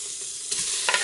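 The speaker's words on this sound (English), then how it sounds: "put the pork belly in and start just browning it" Pork belly browning without added oil in the hot inner pot of an Instant Pot, a steady bright sizzle of rendering fat with a few sharper crackles and scrapes near the end.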